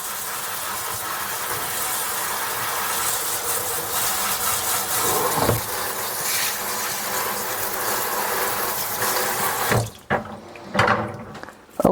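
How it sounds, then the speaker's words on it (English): Whisk rinsed under a running kitchen tap, a steady close hiss of flowing water for about ten seconds before it stops, followed by a few clinks and knocks. "let me rinse off the whisk"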